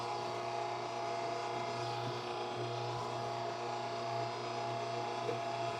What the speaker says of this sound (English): I've had this grinder a couple of years.